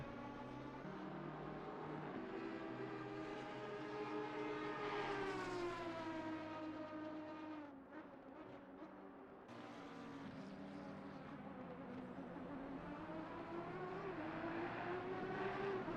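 The number 5 V12 Aston Martin race car roars around Kyalami in a racing video game, its steady, harmonic engine note rising and falling through gear changes and corners, with a brief dip midway and no voices.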